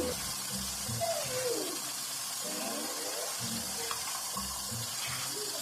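Running water from a tap splashes steadily as tomatoes are rinsed in a sink with salt and white vinegar, a close continuous wash with faint bird chirps in the background.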